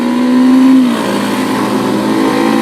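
The engine of a Mondial RX3S Evo motorcycle hums loud and steady up close. Its pitch rises briefly in a short rev, then settles back to a constant drone.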